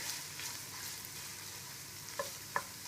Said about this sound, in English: onions are cooking